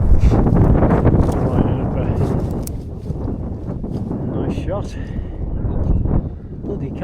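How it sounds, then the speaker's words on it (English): Cold wind roars and buffets hard against the microphone outdoors near a mine, a loud, continuous rush that swells and eases, with a voice speaking under it. "Freezing. Cold wind."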